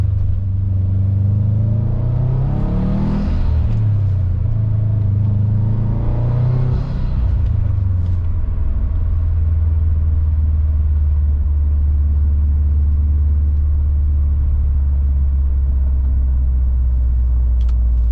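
Subaru Impreza WRX STi with a 2.3L engine revs while driving, with two rising and falling sweeps early on before it settles into a steady, loud low rumble of cruising.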